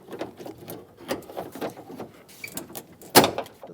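Metal lock rod clip being pried off with a pick inside the door of a 2008-2010 Ford F-250 Super Duty, heard as a series of small clicks and scrapes ending in one sharper snap near the end.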